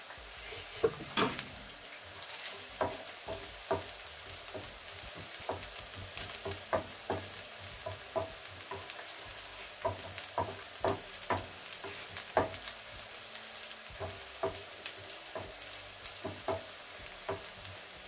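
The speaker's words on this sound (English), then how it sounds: "I keep stirring is to ensure that my onions evenly cook" Onions frying and sizzling in a pan for green capsicum layonnaise potatoes, stirred with repeated scraping strokes over a steady hiss, close and moderately loud, with no talking.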